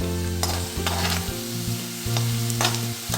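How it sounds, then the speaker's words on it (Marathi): Bitter gourd pieces fry and get stirred in a pan, giving a steady close sizzle broken by repeated scraping strokes of the spatula, with no voices. "आपल्याला पूर्ण थोडंसं ब्राउनिश होईपर्यंत आपल्याला हे असं परतून घ्यायचं आहे"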